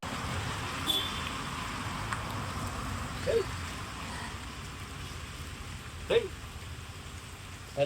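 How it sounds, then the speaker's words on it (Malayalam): Heavy rain falls in a steady, dense hiss with a few brief louder clicks and knocks scattered through, sounding close and continuous without any talking. "നല്ല മഴ."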